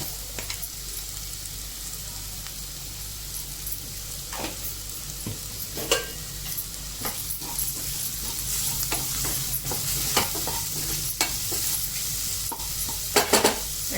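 Ginger garlic paste frying in a pan for a village-style crab curry, a steady close sizzle with intermittent scraping and clinks of a spoon stirring against the pot.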